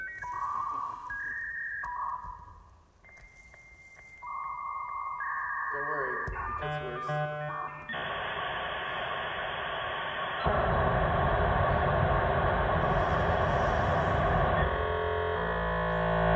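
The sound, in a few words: dial-up modem connection sound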